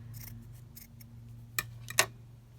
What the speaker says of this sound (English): Let's just cut this piece.